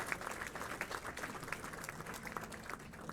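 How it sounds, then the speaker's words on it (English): An audience applauds a sponsor at a bowling awards ceremony at Limerick Bowl, the clapping faint and distant, steady throughout. "So please give them a round of applause for their support of our events."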